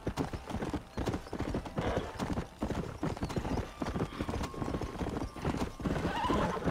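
Steady clip-clop of horse hooves with a loud whinny, game-like sound effects layered over a busy background, from the video game Red Dead Redemption.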